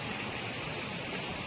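River water rushing steadily through a traditional bamboo fish weir in rural Konkan after heavy rain, a dense, even roar of flowing water that holds unchanged from start to finish with no voices.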